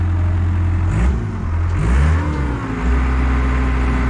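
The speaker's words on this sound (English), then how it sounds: "I hear the turbo. It sounds good." Turbocharged engine on a machine bought at auction revving up and down in a couple of rising and falling swells over a steady idle, close and fairly loud, with no talk.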